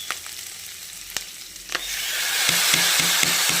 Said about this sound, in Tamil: இங்கே அடுத்து தக்காளி ஓட்டு வணக்கணும்